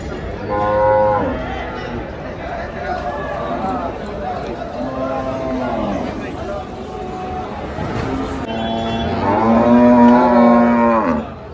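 Cows at the busy Dhule cattle market give several drawn-out, deep moos, some near and loud, others farther off. They rise over a constant crowd murmur, and people talk throughout.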